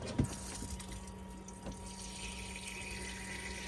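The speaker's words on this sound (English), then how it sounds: "you've got a pressurised flow of water from the hot there" Water runs from the pressurised hot tap into the sink of a Hymercar Grand Canyon Crossover campervan. The flow is a steady, close hiss that stays even throughout, and a brief knock comes at the start.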